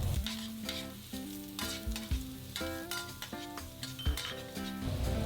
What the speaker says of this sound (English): In a wok on medium-high heat, add some oil and stir fry the onions.